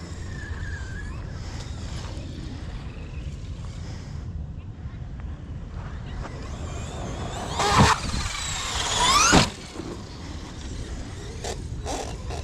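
A Traxxas XMaxx RC truck's motor hums steadily, then surges in two sharp whining bursts before cutting out, with wind rumble and voices present throughout.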